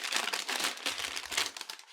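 An eco-friendly plastic pouch that was taped shut is opened, giving a close, continuous crinkling and crumpling that comes in bursts and fades near the end.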